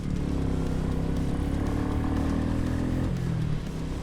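A Royal Enfield Meteor 350 motorcycle engine runs at a steady, loud, close drone with no pause, and its pitch dips slightly near the end.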